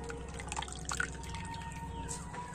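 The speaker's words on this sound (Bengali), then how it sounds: "এইভাবে ধুয়ে আমি চিপে চিপে তুলে নেব" Water dripping and trickling from washed potato being squeezed by hand, a few close small drips and splashes over a quiet background.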